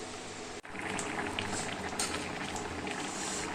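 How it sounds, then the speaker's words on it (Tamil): A pot of rajma gravy boils at a steady simmer, with continuous soft bubbling and popping heard up close and fairly quiet, with no talking. "இது நல்லா ஒரு 5 நிமிஷம் நல்லா கொதிக்கட்டுங்க."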